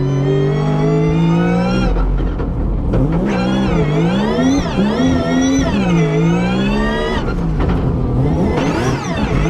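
Drift car engine revving hard and close while warming its tires, a loud rising and falling wail with repeated throttle swells and a brief dip between pulls, no speech.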